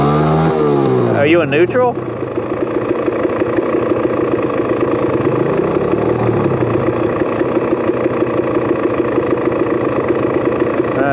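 Motorcycle engine running steadily close by at a high idle with rapid, even firing pulses and a brief rev near the start, while people talk over it.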